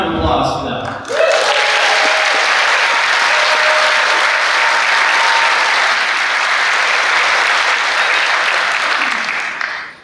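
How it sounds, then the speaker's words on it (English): A hall of fame induction audience breaks into loud, sustained applause that swells after a brief pause and holds steadily to the end, dense clapping filling the room. "Please join me in a huge round of applause for them."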